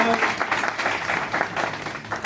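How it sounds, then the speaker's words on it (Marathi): A crowd breaks into lively applause, dense rapid clapping that stays strong throughout, close and loud. "टाळ्या वाजवा यांच्यासाठी"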